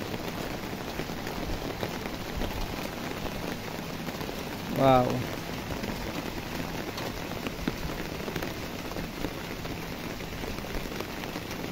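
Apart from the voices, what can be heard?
rain falling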